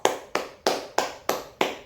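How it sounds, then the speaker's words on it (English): Classroom applause sounds as six crisp, evenly spaced claps in quick succession, close and clear with nothing else heard. "Give a round of applause."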